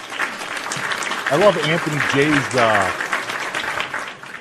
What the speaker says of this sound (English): round of applause for our first prize winner.